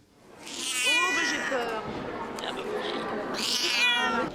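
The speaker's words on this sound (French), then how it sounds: "Il y a les chats un peu félins, les marcous en pyjama, les bons gros matous, les minous trop choux." Several cats at a regional cat show meow and caterwaul loudly in long drawn-out wails, one near cry after another, with faint hall background behind them.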